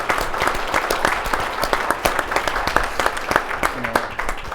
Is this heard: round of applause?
yes